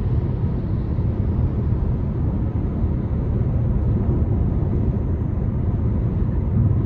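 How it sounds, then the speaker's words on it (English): Inside a 2024 Chevrolet Malibu 1LT 1.5T on the move, a steady low rumble of road and tire noise fills the cabin, with a faint wind hush on top and no talking. "I can hear the road noise a little bit, wind noise, barely."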